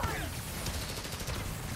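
Gunfire crackles through a dense, continuous game soundscape during combat in Spider-Man: Miles Morales, a steady loud barrage with no clear gaps over less than two seconds.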